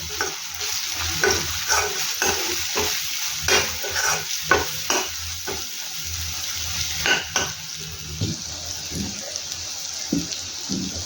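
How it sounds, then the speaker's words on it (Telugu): Red chili powder and coriander powder frying in oil in a pan for an egg curry, with steady sizzling and repeated spoon scrapes and stirs, close and moderately loud, no talking. "వేసేసుకొని ఫ్రై చేసేసుకుందాం"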